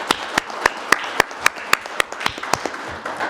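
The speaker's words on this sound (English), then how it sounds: "so big round of applause for him." Sparse audience clapping at a regular city council meeting, a handful of distinct claps in a loose, steady rhythm over a faint room murmur, brief and moderately close.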